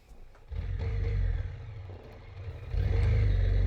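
A Honda NC 750X motorcycle engine pulls away on a road, revving up in two rising surges, steady and moderately close with a mid-range drone.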